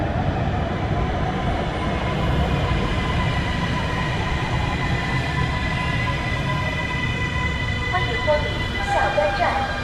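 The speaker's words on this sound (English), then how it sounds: "Here comes the train." A Nanjing Metro Line 5 train pulls into the station with a steady, loud rumble and rail hiss that runs the whole time, and people can be heard talking over it.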